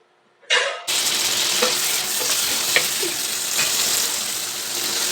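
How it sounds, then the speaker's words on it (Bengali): Potatoes hit the hot pan with a sudden loud sizzle after a brief clatter, then keep sautéing in a dense, even hiss broken by occasional spatula scrapes. "আলুগুলো দিয়ে বেশ কিছুক্ষণ কষাতে থাকবো"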